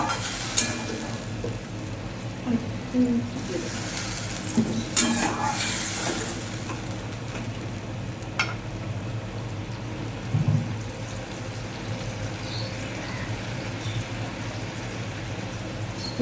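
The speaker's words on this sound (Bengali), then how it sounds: "এবারে আমি পরিমাণ মতন জল দিয়ে দেবো।" Water poured into a pan of sizzling spiced Bata fish curry, with steady frying hiss, stirring scrapes and a few clinks of utensils close by, no talking.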